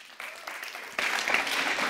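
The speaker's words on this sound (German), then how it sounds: "gebt ihr doch einen großen Applaus" An audience at a marriage enrichment event applauds to welcome a speaker, with scattered claps quickly swelling into fuller, louder clapping partway through.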